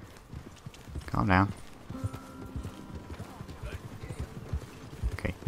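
Horse hooves clip-clop in Red Dead Redemption 2 while a horse lets out a sharp neigh near the start, with someone talking over the steady hoofbeats.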